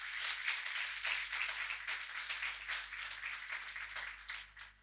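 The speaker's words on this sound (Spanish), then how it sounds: "le dan un aplauso a Jesús por eso" A church congregation applauds together, a steady dense wash of many hands clapping at a moderate distance, with no speech over it.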